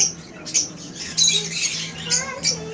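A pet bird kept by a young hand-feeder squawks in several sharp, loud bursts just before hand feeding, with short pauses between calls and no talking.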